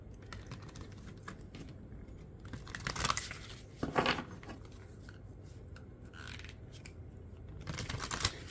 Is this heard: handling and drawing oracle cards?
yes